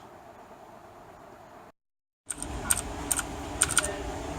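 Inside a tech store, someone clicks keys on a mechanical computer keyboard in short bursts of sharp, close clacks over a low background hum, after a brief moment of silence.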